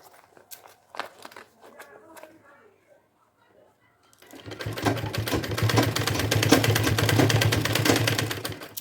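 A sewing machine stitches cloth for a matka bag, a fast continuous mechanical whirr that starts abruptly after a few seconds of quiet handling noises and runs loud and close to the end.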